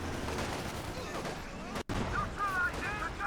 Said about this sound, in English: The Zis guns with the ground attacks have been